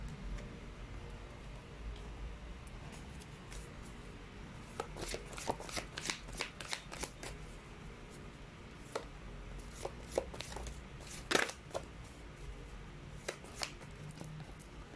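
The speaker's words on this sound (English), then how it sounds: "So let's try to pull up another set of cards." Tarot cards shuffled by hand in a quiet room, a run of crisp riffling bursts and soft taps that come in irregular clusters, close and fairly faint, with no talking.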